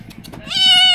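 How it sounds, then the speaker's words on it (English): A kitten gives one high, drawn-out meow close by in rural Laos, rising and holding before cutting off, with faint soft background noise. "Look at the kittens."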